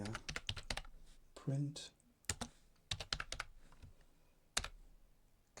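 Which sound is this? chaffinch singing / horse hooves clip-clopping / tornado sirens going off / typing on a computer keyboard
typing on a computer keyboard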